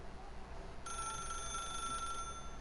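A telephone rings in the Rec Room video game, starting abruptly with a steady electronic trill that runs for over a second and then stops, fairly faint over a low background hum.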